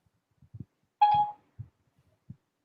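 An iPhone placing a call through Siri gives a short electronic tone, with a few soft taps and clicks before and after in a quiet room.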